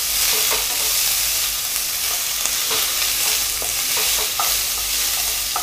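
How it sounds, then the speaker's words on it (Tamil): Onions being stirred and sautéed in a pan over a low flame for a country chicken gravy, with a steady close sizzle and repeated scraping stir strokes throughout and no talking. "இது வந்து நல்லா நம்ம அதாவது கோல்டன் ப்ரௌன் ஆகிற வரைக்கும் நம்ம நல்லா வதக்கிக்கலாம்"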